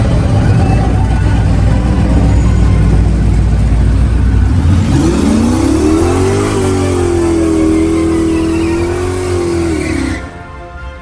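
A truck engine revs hard and accelerates, loud and close, its pitch climbing and holding high for several seconds before cutting off abruptly near the end. No one speaks.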